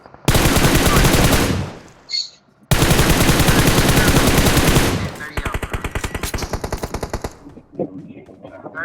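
Loud rapid automatic gunfire in a multiplayer shooter video game, long sustained bursts broken by brief pauses, then a quicker rattling volley, with players talking over the action.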